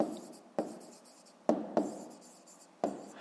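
Pen strokes on paper as a math solution is written out by hand, soft scratchy scribbles broken by a few sharp taps, close and quiet with no talking.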